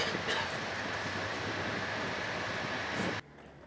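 Steady rumble and rushing wind inside a moving train leaving Rome for the Italian countryside, a continuous loud roar that cuts off abruptly near the end.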